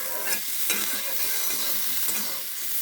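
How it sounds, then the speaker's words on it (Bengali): Cumin seeds sizzling steadily in hot oil in a pan for a rohu fish curry with ridge gourd, a continuous close crackling fry with a few brief stirring scrapes and no talking. "তেল গরম হলে জিরা দিছি"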